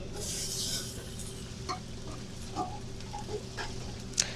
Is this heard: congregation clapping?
no